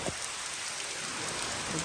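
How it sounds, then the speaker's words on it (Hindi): Steady rain pours down on a farm during a thunderstorm season, a dense, even hiss of drops on surfaces filling the whole stretch with no voices. "अभी फिर से बारिश आज स्टार्ट हो गई है"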